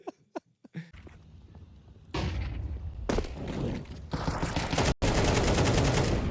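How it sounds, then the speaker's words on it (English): Desert Eagle shots in a Counter-Strike 2 match: a few sharp cracks at the start, then a dense roar of game sound with more gunfire bursts and a brief dropout, no voices. "Story's Deagle blasts through the head of Cadian"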